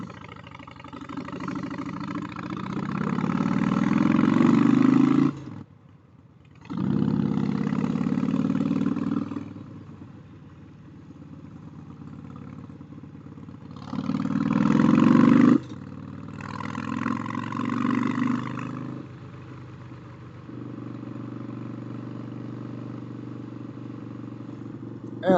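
A custom cruiser motorcycle with a wire tuck and forward controls rumbles past at a motorcycle rally, loud engine swells rising and dropping in several passes, with a steady idle drone between them.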